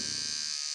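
Electric clippers buzz steadily while shaving hair off a head, a close, continuous motor hum with no talking.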